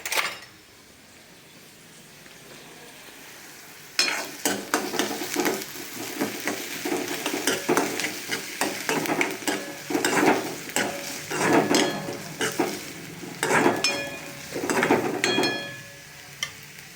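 Onions and green chillies fry in hot oil with cumin, a continuous loud sizzle after the vegetables drop in, punctuated by repeated scraping and clinking as a metal spoon stirs the pan.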